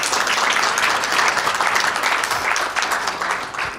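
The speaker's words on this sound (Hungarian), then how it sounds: "Kérem, tapsolják meg a díjazottakat!" An audience at an award ceremony applauds the winners, dense sustained clapping from many hands, steady and fairly loud for the whole stretch.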